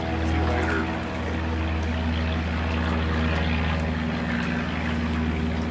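A propeller tow plane pulling a glider at a fly-in drones loudly and steadily overhead, a deep continuous engine hum with a rough edge that holds level the whole time.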